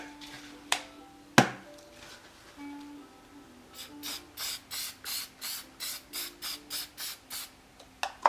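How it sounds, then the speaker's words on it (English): A series of short hissing bursts from an aerosol spray can, about a dozen rapid pulses in a steady rhythm, close and fairly quiet, after a couple of sharp clicks. "And then give it a final spray."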